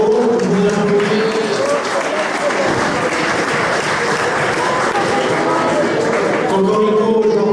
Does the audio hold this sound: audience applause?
yes